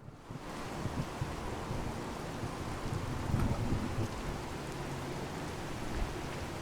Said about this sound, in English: Rain's a bit too loud.